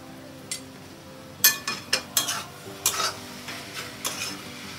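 Chicken mince cooks in a pan with the lid off and gets stirred, sounding as a soft simmering hiss with a series of sharp scraping, clinking spoon strokes that grow busier after a quiet start.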